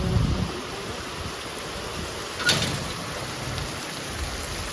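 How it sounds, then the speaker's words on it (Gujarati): Heavy rain pouring down in a Gujarati village, a dense, constant wash of hiss with one brief louder splash, nearby and without any voices. "ધબધબાટી વરસાદ પડે"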